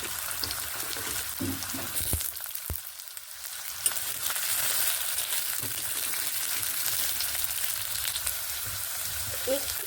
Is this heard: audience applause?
no